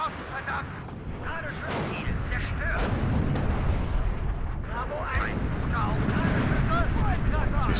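Artillery fire rumbles through a WARNO battle, deep booms and blasts rolling over one another in a dense, continuous barrage with scattered sharper reports, loud throughout.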